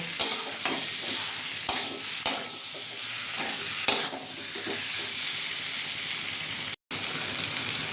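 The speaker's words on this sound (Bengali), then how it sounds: "মশলার সঙ্গে এঁচোড় আর আলুটা ভালো করে কষাতে হবে, বেশ 10 মিনিট এটা কষিয়ে নেব" Fried jackfruit and potato being stir-fried with spices in a pan for a prawn-jackfruit curry, a steady close sizzle broken by several sharp spatula scrapes and knocks.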